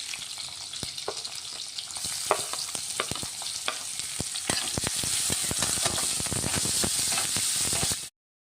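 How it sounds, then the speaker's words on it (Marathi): Green chillies and finely chopped onions sautéing in a pan for pithla, a steady sizzle growing louder with frequent sharp spatula scrapes and taps, close up and without talking. "आता मिरच्या चांगल्या परतून घेऊ थोड्या।"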